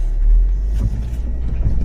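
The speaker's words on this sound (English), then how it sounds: "Heard thunder, woo!" Deep thunder rumbles low and heavy during a supercell storm in South Dakota, a loud sustained roll that fades slightly after the first half.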